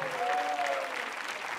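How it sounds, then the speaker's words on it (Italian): Audience applause at a live concert show, a steady wash of clapping with a faint tonal whistle or voice line riding over it in the first second. "Applauso di tutto il pubblico intervenuto qui."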